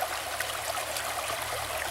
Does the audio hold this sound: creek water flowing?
yes